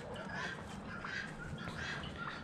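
Ducks quack and call softly in a faint outdoor scene, a few brief overlapping calls scattered over a low, steady background hiss with no voices.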